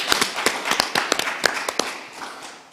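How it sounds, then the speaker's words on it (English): At a virtual awards ceremony, a small group claps in quick, uneven bursts with crisp individual claps, then gradually tapers off. "Can we do another round of applause?"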